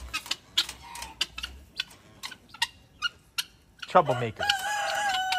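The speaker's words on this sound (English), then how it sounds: "This is what it's like having guinea fowl, y'all." Guinea fowl squabble and call on a farm animal sanctuary, with sharp scattered squawks and clucks that swell into a loud, harsh burst of calling near the end, and a person speaks briefly.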